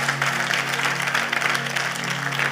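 A church congregation applauds and acclaims Jesus, with brisk, continuous clapping over a sustained low musical hum, steady and moderately loud.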